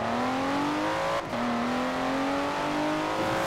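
A big, heavy off-roader car in Forza Horizon 4 accelerates hard, its engine note climbing steadily, with a brief gear-change dip before it rises again, loud and close with no talk.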